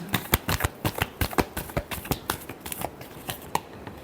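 A deck of tarot cards is shuffled up close in a rapid, rhythmic series of crisp riffling slaps, about a dozen bursts in quick succession with no talking over them.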